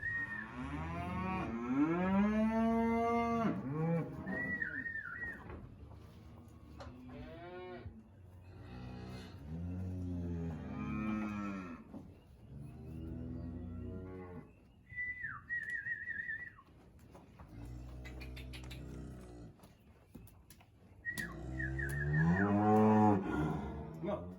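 Several cattle moo loudly and repeatedly in a barn, long drawn-out calls overlapping one another, with occasional sharp whistles mixed in.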